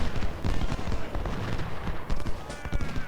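Rapid volleys of musket and rifle fire crackle in a Civil War strategy game battle at Gaines' Mill, dense irregular shots rolling continuously at mid distance with no pauses.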